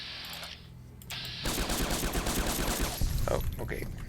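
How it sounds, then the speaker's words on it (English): A plasma weapon firing in Fallout: New Vegas, a loud rapid burst of repeated shots that starts abruptly and keeps going to the end, with a brief quieter gap before it. "He was firing plasma, but he missed."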